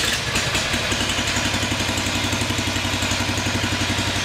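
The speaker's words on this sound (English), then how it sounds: "So that is the engine idling there, a very, very beautiful sound." A BCS 749 Power Safe engine idles steadily at close range, a low rhythmic chugging with a faint mechanical clatter, no voices.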